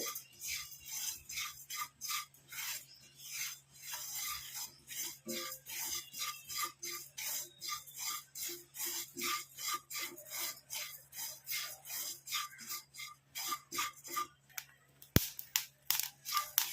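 Dry hair-dye powder mixed with coffee powder being roasted in a pan, heard as repeated rhythmic scraping and rasping of a spoon against the metal, fairly close and steady, with no talking.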